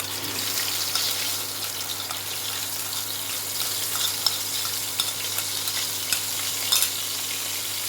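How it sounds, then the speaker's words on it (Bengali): Tomato paste with black cumin frying in oil while being stirred, a steady close sizzle with faint scraping and a low constant hum beneath, no talking. "এটা একটু ভালো মতো ভেজে নিতে হবে তেলের সাথে।"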